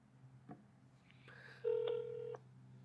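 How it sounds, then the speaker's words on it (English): A mobile phone lying on a table dials out, giving a few short tones and a steady beep tone over a low constant hum, heard close and alone. "Now let me put my phone down on the table, and I'll intentionally not pick it up and try to dial again."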